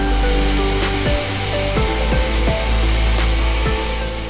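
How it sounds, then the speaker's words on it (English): A leaf blower roars steadily at close range, pushing wind at a security drone during a launch test, a loud continuous rushing drone with a few sharp knocks and thumps mixed in. "simulating the wind with a leaf blower"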